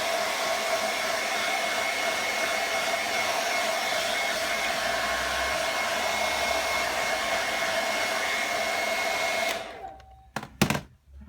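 A hair dryer blows steadily and loud on freshly airbrushed paint of a Boba Fett helmet, a constant whooshing hum for about nine seconds before it cuts off, followed by a few soft knocks.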